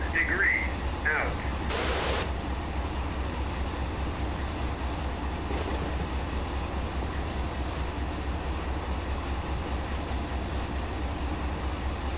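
Heavy steel freight train rolling downgrade through the Tehachapi Mountains, a steady continuous rumble and rail roar with low engine drone, and a brief higher screech or hiss near the start.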